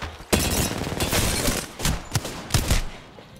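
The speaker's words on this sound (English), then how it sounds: "Getting shot at." Rapid gunfire in a video game shootout, a dense crackling volley with several sharper loud bursts standing out, continuous and close with no voices over it.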